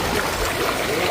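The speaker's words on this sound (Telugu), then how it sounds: "రాత్రి 10 గంటల నుంచి ఇట్లే పోతున్నాయి నీళ్ళు" Water gushes from a leaking pipe in a street in Victoria Peta, Adoni, a loud, steady rushing hiss heard close up with no break.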